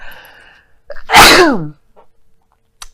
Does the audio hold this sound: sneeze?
yes